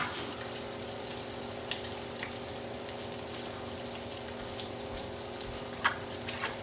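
Water running steadily into a cooking pot, a continuous faint rushing hiss with a low hum beneath and a couple of small knocks near the end, heard alone.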